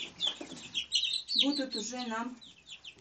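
Young laying-hen chicks peep and cluck in bursts close by while someone talks over them.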